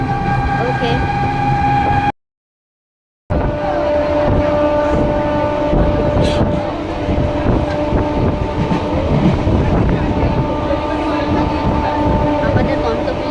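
A local passenger train rolling along on the line toward Dum Dum in Kolkata, with a loud, steady rumble and clatter of the carriage and wind noise throughout, interrupted by a brief gap of silence.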